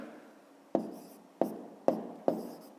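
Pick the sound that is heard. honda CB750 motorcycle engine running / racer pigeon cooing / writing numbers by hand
writing numbers by hand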